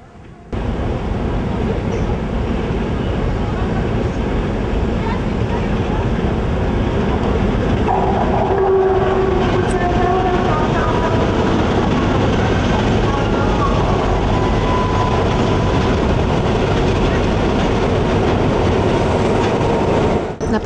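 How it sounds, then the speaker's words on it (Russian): A fire train rolls steadily along the rails arriving at a station, with continuous rumbling and clickety-clack, loud and close for the full length, with brief squeals partway through. "По сигналу к вокзалу прибыл пожарный поезд"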